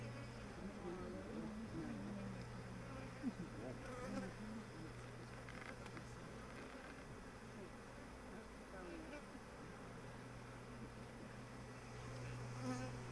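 Honeybees hum steadily around an open hive at a beekeepers' gathering, a dense, continuous buzz with individual bees droning close past, faint throughout with no talking over it.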